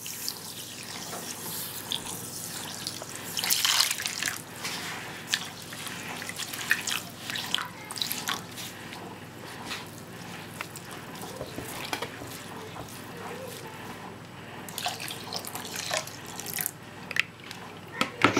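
Couscous semolina rinsed with water in a kitchen, with running tap water, scattered drips and sloshing splashes over about eighteen seconds, fairly close and with no clear speech.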